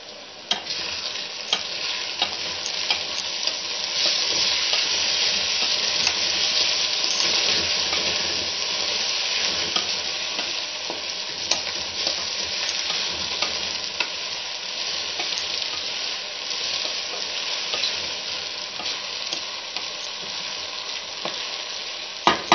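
Onions fry in a pan until just reddish, not browned, for an egg dish: a continuous dense sizzle with frequent small clicks and scrapes of a spoon stirring, close and steady throughout.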